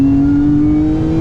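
A Lotus Emira engine in its base tour mode runs close by with a steady, smooth hum and slight rise in pitch, loud and continuous with no talking.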